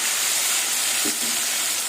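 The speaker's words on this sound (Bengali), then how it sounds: "এবার চিংড়ি মাছগুলো ভেজে নেব" Prawns seasoned with salt and turmeric frying in hot oil in a wok make a loud, continuous hissing sizzle that stays even for about two seconds before dropping away.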